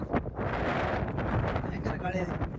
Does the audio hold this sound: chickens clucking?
no